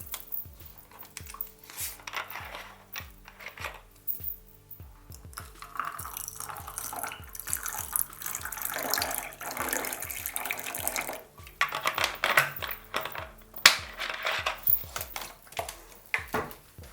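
Sparkling water poured for a drink: a close, soft stream of liquid with trickles and drips over about seventeen seconds, rising and falling with no talk.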